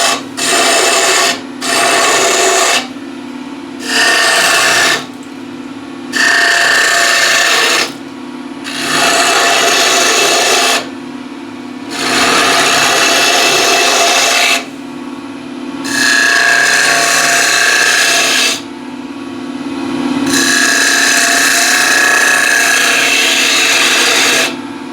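Wood spinning on a lathe being cut with a half-inch spindle gouge, loud and close, with bursts of rough shaving and scraping alternating with short pauses while the steady hum of the turning lathe carries underneath.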